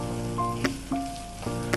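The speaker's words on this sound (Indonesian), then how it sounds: "Kemudian kita masukin bawang bombay. Kita tumis lagi sampai layu" Onions sautéing in a pan for risoles filling, a steady soft sizzle and crackle running throughout with a few sharper pops and clinks of stirring.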